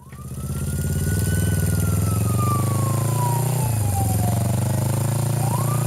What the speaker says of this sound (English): Then I heard the jug spat of a motorcycle,